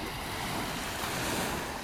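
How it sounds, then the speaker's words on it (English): Small ocean waves wash steadily onto a beach in North Naples, Florida, a soft continuous hiss of surf with light wind, faint and even, with no talk. "We got a few waves out here this morning too, little waves."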